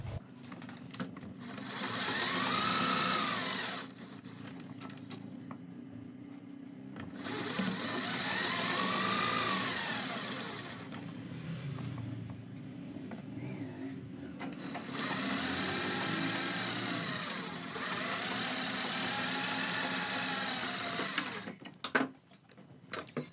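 A sewing machine stitches buckram onto the neckline of a kurti in steady whirring runs, each burst rising and falling with short pauses between, close and clear with no talking.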